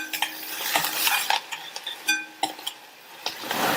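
Crushed garlic sautéing lightly in a pan, a soft quiet sizzle broken by repeated clicks and scrapes of a spoon stirring against the metal, with no voices.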